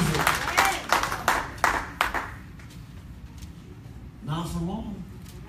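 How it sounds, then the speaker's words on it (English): A church congregation claps in a short burst of sharp, spaced handclaps that fades out, followed by a brief spoken voice. "Some of y'all clapping like you're not sure you believe that."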